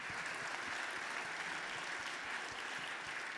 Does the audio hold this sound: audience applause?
yes